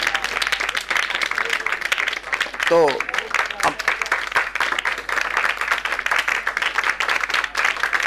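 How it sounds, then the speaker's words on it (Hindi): Children at a Sunday school program clap for themselves in a steady, dense patter of applause lasting throughout, with a brief voice cutting in partway and a little talk over the clapping. "मैं चाहता हूं कि सब अपने लिए ताली बजाएं"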